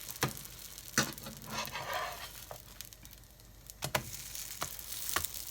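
A plant-based breakfast fries in a pan just after flipping, giving a soft sizzle with scattered close ticks and scrapes at fairly low volume.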